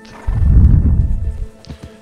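A loud, rumbling horse snort or whinny up close in the video game Red Dead Redemption II, followed by a couple of soft hoof thuds as it settles.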